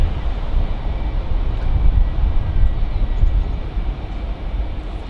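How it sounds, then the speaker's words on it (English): A Virgin Atlantic Airbus A350-1000 roars on departure at Manchester Airport, its jet engines producing a loud, steady low rumble with a broad rushing noise that swells slightly midway. "allow you to just enjoy the sound of the engines, because it is one hell of a sound."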